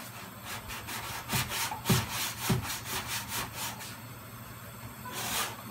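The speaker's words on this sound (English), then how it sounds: "I'm sanding below the break where there was no body damage." Rhythmic back-and-forth scraping of sandpaper on a Toyota Camry body panel, about a dozen strokes in steady succession, close and moderately loud.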